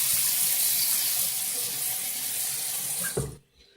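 Water runs steadily from a bathroom tap during a face-lathering shave, a loud continuous hiss that cuts off abruptly near the end.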